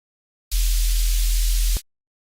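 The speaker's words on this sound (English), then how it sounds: "We just have basically just a sine wave and then some high pass noise." A synth plugin patch of a sine wave and high-pass filtered noise: a loud, steady hiss with a low tone underneath starts abruptly, holds evenly, then cuts off sharply, with silence before and after.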